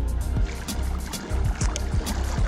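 A BOTE Low Rider board is paddled on windy water, with rhythmic close paddle strokes and splashes about every half second over a running wash of water.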